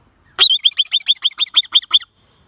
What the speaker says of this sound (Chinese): 这是土拨鼠，它的叫声是这样的。